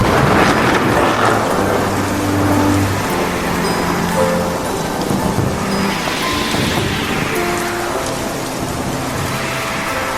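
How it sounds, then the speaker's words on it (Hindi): Heavy rain pours steadily with gusting wind, a dense continuous roar close by, with low rumbles and swells through the wash. "इतनी बारिश हो रही है और हवा चल रही है"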